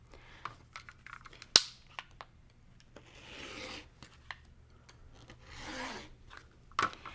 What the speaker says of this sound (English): Now I'm going to just cut around all 4 sides.